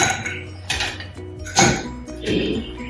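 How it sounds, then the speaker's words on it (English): Ice cubes dropped into a glass while making instant iced coffee, a few sharp clinks and clatters in quick succession, close and fairly loud. "Okay, you just put a couple of ice cubes."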